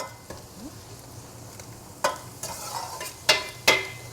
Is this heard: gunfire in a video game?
no